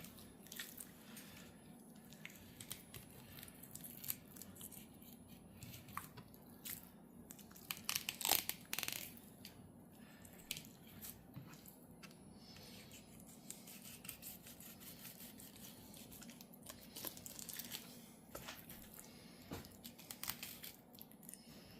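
A knife slicing through a rainbow trout from the top down, giving soft wet crunching and squishing cuts in a quiet outdoor setting, with a louder crunch midway and irregular small clicks throughout.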